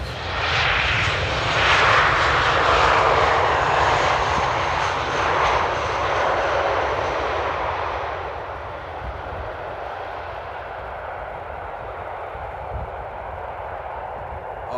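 A Ryanair airliner arriving at Amsterdam Airport roars loudly with a broad jet engine rush over a low rumble, then gradually fades to a steady distant drone as it passes by.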